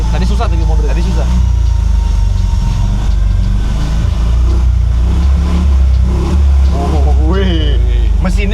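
A BMW Isetta's small engine running as the car reverses, a low steady throb close by, with people talking over it throughout.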